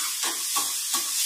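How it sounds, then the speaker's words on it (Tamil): Ginger sautés in a pan for a ginger pachadi, a soft steady sizzle broken by three quick stirring scrapes close by. "இஞ்சி ரெண்டே செகண்டில் வதங்கிடும்."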